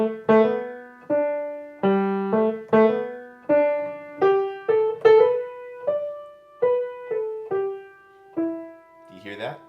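Solo piano plays a waltz melody, including a deliberate slip-note and its quick correction; clear, close notes in a steady waltz rhythm with no talking.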